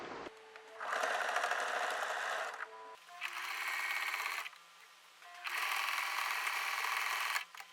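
A sewing machine stitching a jumper skirt runs in three close bursts of rapid, even whirring, separated by short pauses, loud and near with no talk over it.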